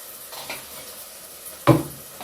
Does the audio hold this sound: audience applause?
no